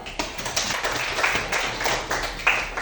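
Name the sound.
class clapping for a student's answer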